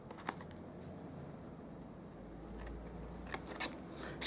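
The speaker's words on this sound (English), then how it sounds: "I like to cut that score line just to get rid of the bulky bits" Quiet, crisp scissor snips at a papercraft table as bulky score-line bits are trimmed from Stampin' Up! cardstock for a butterfly box, a few isolated cuts spaced apart with no talk.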